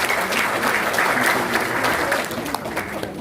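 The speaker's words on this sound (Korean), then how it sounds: "큰 박수 부탁드리겠습니다" Audience applause at a Korean policy forum as a labor market committee chair and economics professor is introduced, loud, close and sustained clapping from a crowd throughout.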